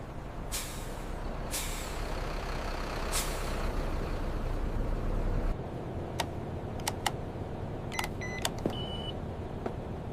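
A bus pulls up at a stop with a steady engine rumble, then gives several sharp air-brake hisses and releases, the loud bursts standing out over the idling traffic noise.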